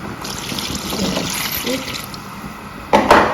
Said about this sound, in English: So I'll go ahead and add some water.